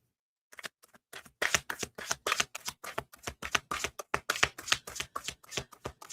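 Tarot cards riffle-shuffled by hand, a rapid run of crisp papery flutters and snaps in quick uneven bursts, close up and fairly loud with no talking.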